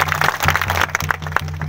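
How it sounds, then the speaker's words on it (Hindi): Crowd clapping at a community gathering in Gumla, a dense steady patter of hands lasting under two seconds over a low electrical hum. "तो इनके एक ताली बजा दीजिए।"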